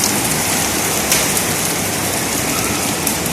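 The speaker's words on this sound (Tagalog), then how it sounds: "the rain is getting heavy, and the rain is coming in my window and also on my door" Heavy rain pours in through an open window and door, a dense, steady hiss of close downpour with no pause throughout.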